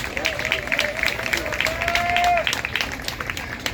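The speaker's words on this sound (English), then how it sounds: "So a round of applause for Keturah." A round of applause from the crowd at a community scholarship awards ceremony, clapping under background chatter, with a brief tonal whistle or voice rising through the middle.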